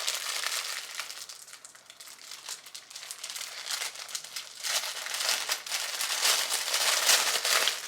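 Small plastic baggies holding clothing handled up close, with continuous crisp crinkling that swells louder toward the end and no speech.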